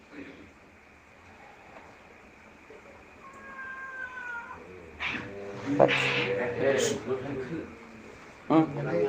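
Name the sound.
cat meowing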